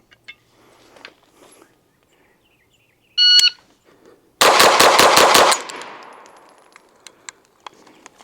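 A Bear Creek BC9 pistol-caliber carbine fires six rapid, evenly spaced shots at seven yards, loud and close. A short electronic timer beep comes first, and faint clicks and rustles follow.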